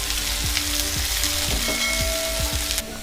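Chopped onions, green chillies and garlic fry in a pan, a dense continuous sizzle with a regular rhythm of scraping stirs underneath, close and loud, with no talking.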